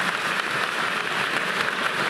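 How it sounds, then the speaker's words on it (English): A middle school crowd at an eighth grade graduation applauds, a dense, steady wash of many hands clapping close by that holds at an even level throughout, with no voices heard. "give yourself a round of applause"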